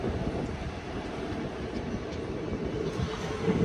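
The Tirupati Express rolls into Puttur railway station, a steady loud rumble of wheels and carriages with a broad, continuous roar and no clear voices.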